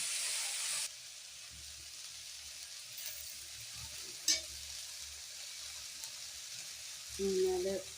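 Mustard seeds and curry leaves sizzle in hot oil for a beef curry, a steady hiss across the whole stretch, louder at the start, with a sharp pop midway and a brief stirring clatter near the end.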